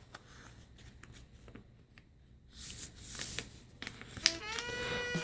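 A sheet of paper is folded and creased by hand for a paper airplane, giving close crisp rustling and sliding scrapes that build over the last few seconds, with a sharp crackle near the end.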